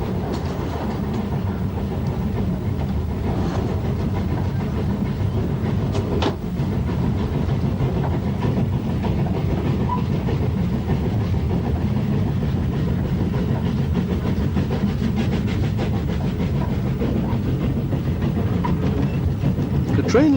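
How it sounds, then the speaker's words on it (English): A 1950s British Railways train labors steadily up a gradient toward the line's summit through open moorland, with a continuous heavy engine rumble and rhythmic rail clatter, loud and close throughout. "Our train is working hard as it approaches the line's summit."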